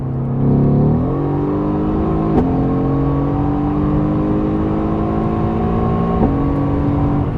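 Mercedes-AMG GT R engine while driving, a loud steady drone inside the cabin that rises through gear changes with brief shifts in pitch, continuous and close with no talk.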